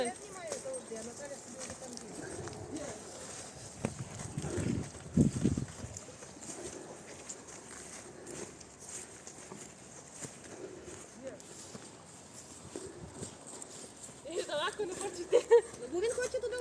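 A stallion turned out toward a mare walks with soft clip-clopping hooves, intermittent and fairly faint, beneath frequent conversation between people nearby.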